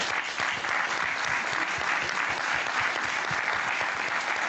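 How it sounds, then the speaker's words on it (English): A steady, full round of applause from the audience for the panelists at the end of a culture panel discussion. Dense clapping holds at an even, loud level for the whole stretch. "Can we give them all a round of applause?"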